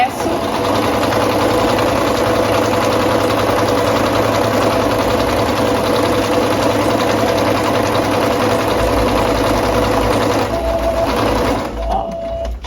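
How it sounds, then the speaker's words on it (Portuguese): A sewing machine runs steadily, stitching the pleat seam of a skirt in one continuous loud whir that slows and stops near the end, with a brief backstitch. "vamos lá na máquina fazer essa costura"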